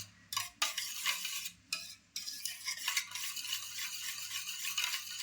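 Powder mixture for kharvas being stirred in a bowl, a steady scraping and rattling of a utensil with a couple of brief pauses, close and fairly loud, with no talking.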